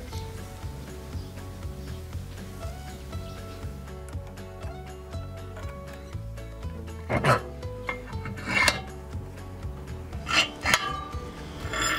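Hand file rasping along a marked line on metal while making a homemade fishing spoon lure from a coin, CO2 cartridge or skewer, heard as rhythmic scraping strokes that grow louder near the end over a steady musical bed.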